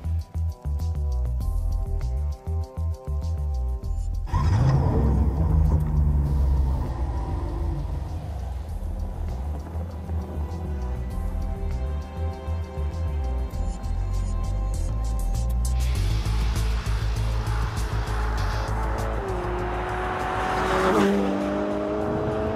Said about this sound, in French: V8 turbo, ça chante un peu moins qu'un V12 évidemment, ça chante aussi moins bien qu'un V8 Atmo.